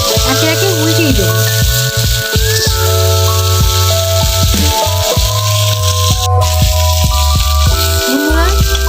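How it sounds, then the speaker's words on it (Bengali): Silver carp pieces fry in hot oil, a loud continuous sizzle and crackle close by, with scattered clinks and rattles from the pan and a low steady hum underneath. "দুপাশ ভাজা হয়ে গেছে মাছের, আমি এখন তুলে নিচ্ছি"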